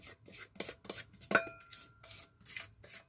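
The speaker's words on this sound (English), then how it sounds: "I'll give it a quick stir." A spoon drags and scrapes through cake batter in a bowl, soft rhythmic strokes with a single sharp clink against the side, close and quiet with no talking.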